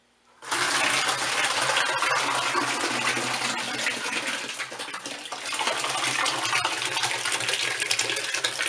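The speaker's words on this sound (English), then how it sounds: "So now I'm going to let that strain through a little bit." Hot whiskey mash for homemade bourbon pours and gushes steadily through a strainer, a loud continuous watery rush that starts abruptly and keeps flowing, easing slightly midway before surging again.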